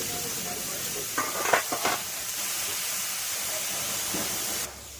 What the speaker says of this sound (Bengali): দিয়ে দিচ্ছি পেঁয়াজ বাটা, ভালো করে নেড়ে নেব।